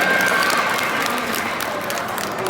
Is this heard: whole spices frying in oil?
no